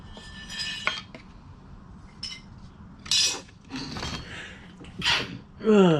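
A short, sharp sneeze bursts out in a woodworking shop among scattered clinks of glass and metal, with brief voices and breathy sounds nearby.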